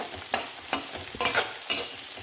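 Vegetables with green chili and carrot stir-fry over a high flame in a pan, a steady sizzle broken by about five sharp scraping stirs.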